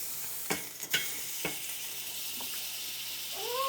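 Butter sizzles steadily in a pan while chicken drumsticks are cooked, a constant hiss with a few sharp utensil clicks near the start, close and fairly quiet.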